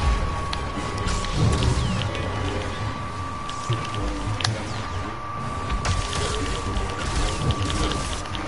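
Crackling lightning strike in a video game, heard as rain-like hiss with a thunder rumble and a sharp crack midway, under steady game effects.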